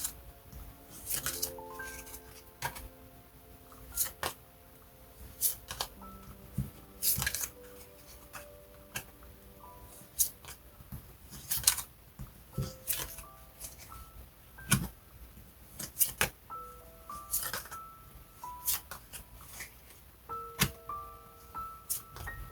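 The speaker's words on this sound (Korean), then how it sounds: "세 장씩 뽑겠습니다." Tarot cards being shuffled and drawn: soft, close, irregular card slaps, flicks and sliding rustles with scattered sharp snaps, quiet and alone with no talk.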